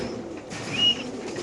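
A racer pigeon gives a brief, soft coo, close by and alone.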